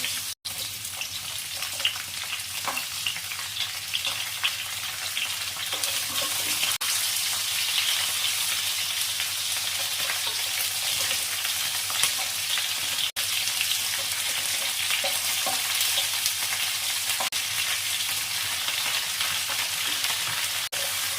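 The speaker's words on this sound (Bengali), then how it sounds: "সবজিগুলো একটু ভাজা ভাজা হয়ে গেছে। এবার এর মধ্যে দিয়ে দিচ্ছি বাকি সবজিগুলো" Mixed vegetables for Bengali bhog labra fry in a pan as they are stirred, giving a steady, dense sizzle that runs the whole time with brief scraping touches and no talking.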